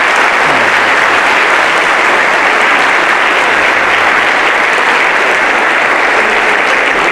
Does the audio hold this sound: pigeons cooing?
no